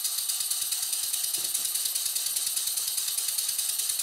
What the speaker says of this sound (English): I'm turning over the engine and it seems to be blowing quite a lot.